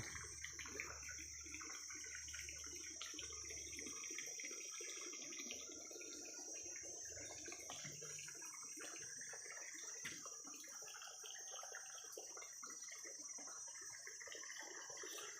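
Water flows steadily through a freshwater pond where river snails are raised in net cages, a continuous rushing and trickling with a constant high hiss and no one talking.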